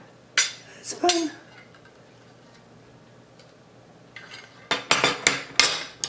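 Metal spoons clink against a toy magnet science set: a few sharp clicks early on, then a run of bright metallic taps toward the end, close and fairly quiet, with a brief voice in between.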